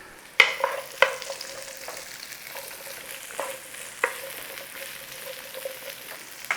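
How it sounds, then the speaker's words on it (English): Onions hit a hot, thick wok over a high flame for chicken chow mein, a sharp crackling sizzle punctuated by several clanks and scrapes of stirring, close and alone. "In there with those onions. We're going to start the onions off first."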